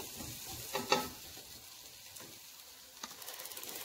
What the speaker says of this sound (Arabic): ملي كتشحر ليا هاد الخضر هادي مزيان وكتلبس لهاديك الزويته مع الزبده